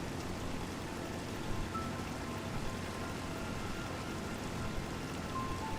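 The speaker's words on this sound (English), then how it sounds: "The rain is only making this a nicer moment." Rain falls steadily in the Master Detective Archives: Rain Code video game, a dense, even hiss of drops on surfaces with no pauses and no voices.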